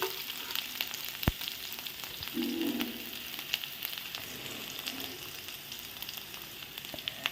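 Chopped bitter gourd and other curry ingredients sautéing in a pan, giving a steady, soft frying hiss with occasional stirring scrapes and a sharp knock, close by and with no one talking.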